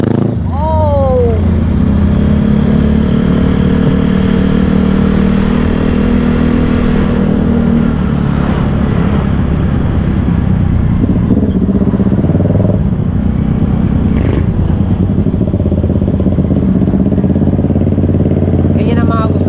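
Motorcycles pass along a road in the morning, their engines rising and fading with loud, steady rumbling and a few revs, while people talk over the traffic.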